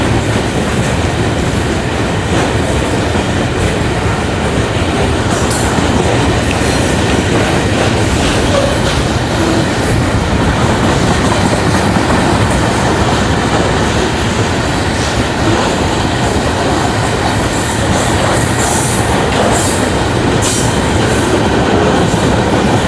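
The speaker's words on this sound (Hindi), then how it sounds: "डाउन सुपर पार्सल जंगशाही को थ्रू पास करके चले गई।" Long down super parcel train passing through Jungshahi station at speed, a loud steady roar of wheels and rattling wagons with clickety-clack, continuous and close throughout.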